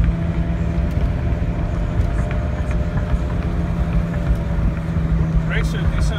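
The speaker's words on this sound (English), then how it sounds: "Got a slight wheel bearing noise, it seems like, coming from the front, maybe the left front." A 2003 Pontiac Bonneville with a 3.8 V6 drives along, with a steady low road and engine drone and a faint hum from a worn front wheel bearing running underneath.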